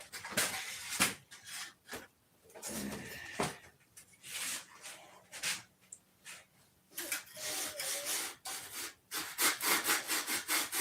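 Sandpaper on a stick rubs against a part during assembly of a model P-47, coming in close scratchy strokes in irregular bursts separated by short pauses.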